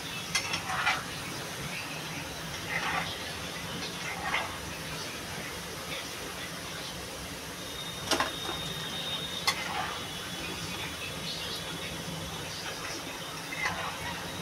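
Paneer pieces frying in a pan of oil give a steady soft sizzle with occasional utensil clicks and scrapes, close by, while a person talks over it.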